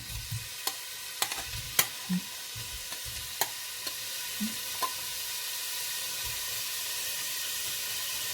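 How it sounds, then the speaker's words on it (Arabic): Meat frying in ghee and oil for Lebanese-style green bean stew, stirred now and then: a constant hiss and sizzle with sharp spoon clicks and scrapes at irregular intervals. "هلا نضل نقلب باللحمة لحد تقريبا ما تستوي"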